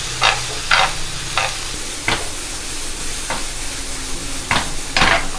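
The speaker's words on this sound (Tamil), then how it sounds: "இது மூணுமே சேர்த்துட்டு நம்ம நல்லா கலந்து விட்டுடலாம். ஹை ஃப்ளேமில் வச்சுக்கலாம்." Vegetables and chicken tossed in a wok over high flame with the same oil and sauce, giving a steady close sizzle broken by about eight sharp bursts of stirring and scraping at irregular intervals, with no voices.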